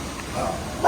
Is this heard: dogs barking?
yes